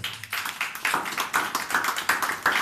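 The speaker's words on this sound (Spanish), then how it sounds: "Ahora denle un fuerte aplauso al Señor." A church congregation claps together in a steady, rhythmic burst of many hands, fairly close and continuous, with no talking over it.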